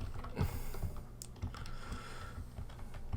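Rapid typing on a computer keyboard, close and fairly quiet, with dense irregular clicks and a few heavier key strikes.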